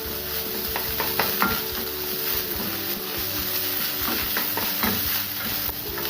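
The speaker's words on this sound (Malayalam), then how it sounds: "ഈ വെജിറ്റബിൾ മുട്ടയും എല്ലാം കൂടെ നല്ലപോലെ ഒന്ന് മിക്സ് ചെയ്തെടുക്കാം." Egg fried rice with vegetables is stir-fried in a pan, sizzling steadily while a spatula scrapes and tosses it in a busy, continuous rhythm, close and loud throughout.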